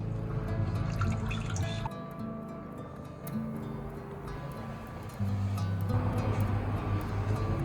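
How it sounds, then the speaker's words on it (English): Water drains from paper pulp scooped up in a mold and deckle during art paper making, a quiet trickling and dripping with shifting tones and a low hum underneath. "we use a mold and decal to scoop it up and drain out the excess water"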